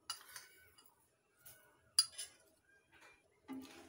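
Spoonfuls of sugar added to makhana kheer in a metal pot, with a few light clinks and taps of a spoon against the vessel, sparse and faint in a quiet kitchen.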